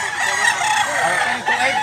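A ten-month-old bullstag gamecock crows once, close and clear, a drawn-out cry over faint background noise.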